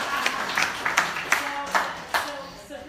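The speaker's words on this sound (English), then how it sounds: "All right, now let's clap." A small audience gives a handful of scattered, uneven claps, each sharp and distinct, with low murmuring voices in the background.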